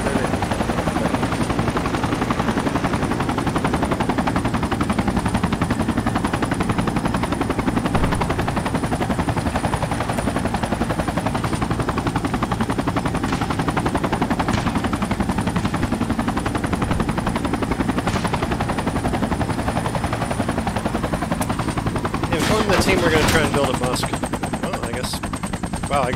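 In the Project Reality combat game, a helicopter drones steadily and loudly while rapid machine-gun bursts and gunshots rattle throughout, with voices talking now and then over the din.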